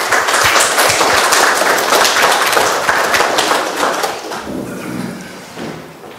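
An audience at a transpersonal conference bursts into dense applause to welcome a keynote speaker, the clapping sustained for about four seconds before thinning and fading out.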